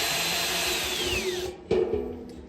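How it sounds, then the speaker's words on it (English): A power drill set on low screws a hook into a corn wheel squirrel feeder with a steady whirring hum, then stops and gives a short second burst near the end. "grab a drill with a hook and on low again"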